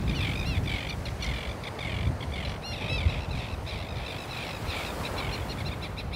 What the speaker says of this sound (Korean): 남극 제비갈매기가 찾아오는 여름.